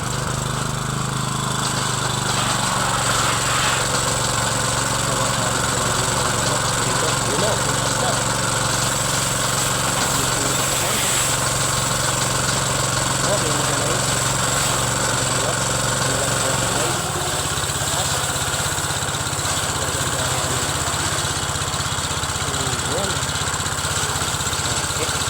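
A small pressure washer's engine runs steadily and loudly at idle, a dense continuous drone with a slight shift in pitch partway through.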